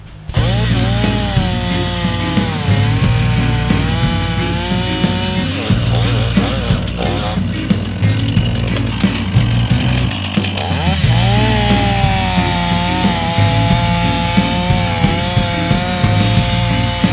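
A chainsaw runs nonstop at high revs, boring into a tree trunk during felling, its pitch dipping and rising as it bites into wood, loud and close, with a brief stutter midway.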